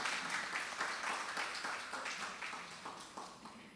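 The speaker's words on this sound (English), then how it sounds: "we give him a round of applause" A seated audience at a university teaching and research awards ceremony applauds, a fairly faint, dense patter of many hands clapping steadily that gradually thins toward the end.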